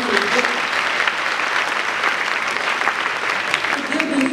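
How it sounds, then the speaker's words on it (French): A graduation ceremony crowd applauds the graduates' parents with a thick, continuous roar of clapping, loud and even from start to finish, with faint voices underneath. "Et je pense qu'on peut les applaudir."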